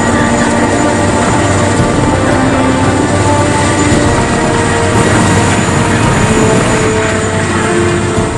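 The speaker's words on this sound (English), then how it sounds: "Mauricio Reyes is the first to be airlifted off the mountain" Rescue helicopter airlifting a crash survivor off a mountain near the 1995 American Airlines Flight 965 site, a loud continuous engine and rotor roar that stays steady throughout, with no voices.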